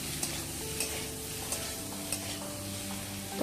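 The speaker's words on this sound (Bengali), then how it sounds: "আলুটা ভেজে নিচ্ছি" Potatoes fry in a hot pan and are stirred, giving a steady close sizzle with light scraping taps, over faint tonal background sound.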